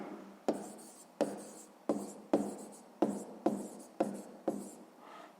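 Pen strokes on paper while working a sixth-grade maths exercise, about eight sharp scratchy bursts at a steady rhythm, each starting crisply and trailing off, close and clear with no talk.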